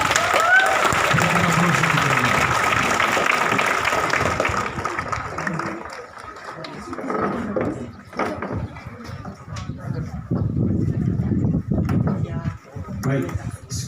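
Audience applause at a national Bible quiz final at a high school, a loud burst of clapping for several seconds that fades into talk and room noise.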